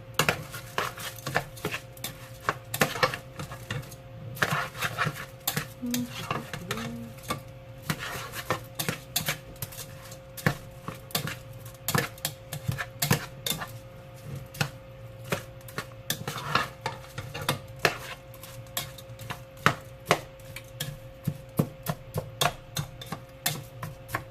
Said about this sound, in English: Mix it up real good so you can see all the white rice turn orange.